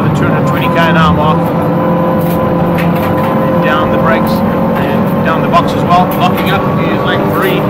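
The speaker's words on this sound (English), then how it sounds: "They come back down to the back straightaway now, pushing those cars to the limit" SupaCup Polo GTI race cars roar loudly at over 220 km/h along a race circuit's back straight, engines blaring continuously with shifting pitch as a commentator talks over them.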